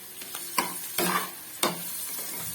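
Green chillies sizzle in a pan with chilli paneer: a steady quiet fry broken by three sharper bursts of stirring and scraping, with no voices.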